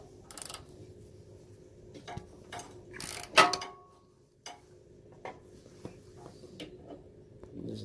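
Small metallic clicks and ratcheting taps as a bowl nut is taken off a small engine carburetor, close and quiet, with one sharper clank in the middle.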